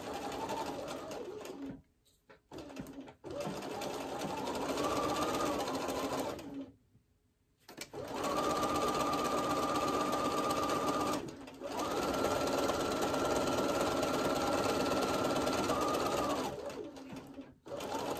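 A sewing machine stitching the side seam of a scrappy quilt block in Tilda fabrics, running in long steady bursts with brief pauses between them, close and fairly loud.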